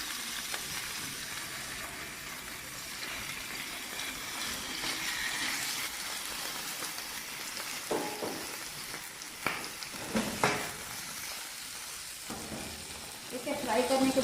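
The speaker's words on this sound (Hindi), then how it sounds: "चिकन पहले हम फ्राई करेंगे। उसमें 1 चम्मच बड़ी खाने की मैंने घी डाल दी है।" Chicken fries in a spoonful of ghee, a continuous moderate sizzle like light rain that gains stirring scrapes and clatter toward the end, with no words spoken.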